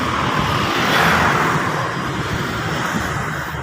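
Steady roadway traffic on a highway between Cavite and Baguio, cars rushing past close and loud in a continuous broadband wash with a swell near the start, no voices.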